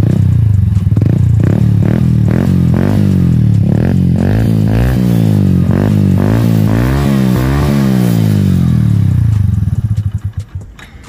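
A Hero HF Deluxe motorcycle fitted with a modified, slightly cracked silencer runs loud and close, its engine and exhaust pulsing and revving in repeated surges before cutting off abruptly at the end, with no talking.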